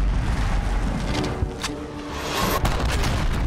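A cruise missile explosion in the video game Modern Warfare, a heavy sustained rumbling blast with crackling debris and a couple of sharp secondary thuds, loud and close.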